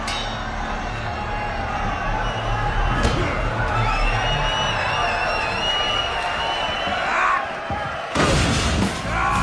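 A wrestling arena crowd cheers and roars in a continuous, loud wash of voices, with a sharp crash near the end.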